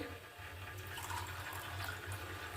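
Hot boiled water being poured off in a home kitchen, a steady close splashing gush of liquid running for a couple of seconds, moderately quiet and without any talk.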